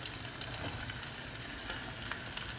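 Chopped onions hitting hot oil in a frying pan for an egg curry with small vadiyalu, giving a steady, dense sizzle that holds unbroken at close range throughout, with no voices.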